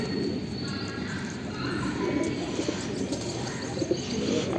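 Wild pigeons gather to eat scattered roti outdoors, giving soft low cooing and fluttering under steady ambient noise, with a voice talking faintly in the background.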